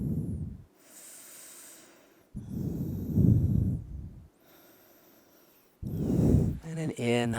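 Slow, deep yoga breaths alternate between long airy inhales and exhales, loud and close, separated by brief pauses, with a short spoken phrase at the very end.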